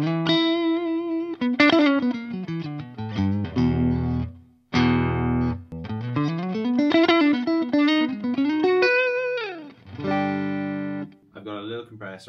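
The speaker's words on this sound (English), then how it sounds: "so this is our clean tone on the neck pickup" An electric guitar plays a clean tone on the neck pickup through an amp with a compressor and a little reverb, with ringing single notes and sliding melodic lines, close and clear, with brief gaps between phrases.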